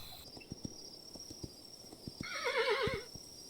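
In the video game Kingdom Two Crowns, a horse lets out a quick, wavering neigh near the end, preceded by soft, evenly spaced hoof clip-clops against a quiet ambient game background.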